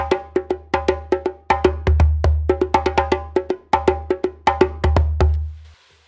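A djembe captured with top and bottom microphones blended, giving a steady pattern of sharp slaps and tones over a deep bass thump, played alone and close.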